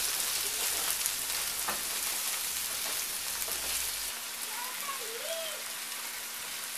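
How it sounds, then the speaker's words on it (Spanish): Tomato, onion and chiles fry in a pan with a steady broadband sizzle, loud for the first four seconds and then softer, with a faint whistle-like tone rising in the background. "el jitomate con la cebolla y los chiles. Y vamos a dejar que se frían un poco"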